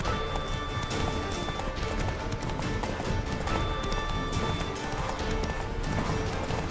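Horse hooves clip-clopping at a steady gallop in the video game The Witcher 3, a dense rhythmic drumming running throughout with game music and ambience layered over it and an occasional whinny.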